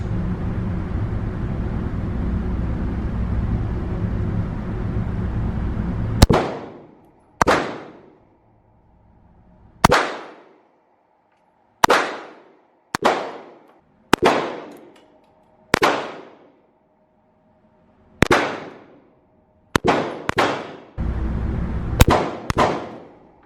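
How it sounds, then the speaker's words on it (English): Pistol shots from a Springfield Hellcat and a Shield Plus ring out outdoors after a steady rumbling background, about a dozen loud, sharp reports at irregular spacing, each with a short decaying tail. "So he's going to shoot the Shield and the HELLCAT."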